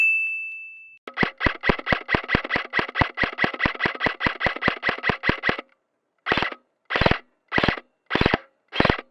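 A SIG MCX airsoft rifle firing BBs on full auto, a long fast string of sharp mechanical cracks, then a pause and five separate shots, close and loud with no talk.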